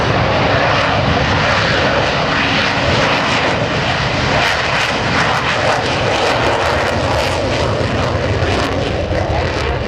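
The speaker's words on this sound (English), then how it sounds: "And he's flying now along with David Booster Graham" Military aircraft in a USAF Heritage Flight at the 2010 NAS Oceana airshow, a loud steady engine roar that fills the whole stretch with no breaks and no talk.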